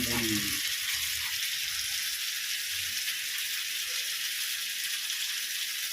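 Fish frying in a pan for a home-cooked meal, a loud, steady, close sizzle of hot oil running continuously, with brief clatter at the start.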